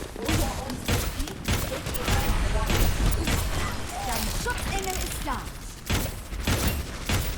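Video game gunfire in rapid bursts and volleys, mixed with thuds and mechanical clatter, under a player's continuous talking.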